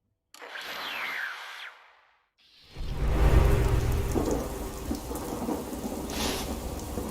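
Steady rainfall and rumbling thunder in the Fallout 76 game world. A short airy spell fades to a gap of quiet, then heavy rain and deep thunder roll in loud and continuous.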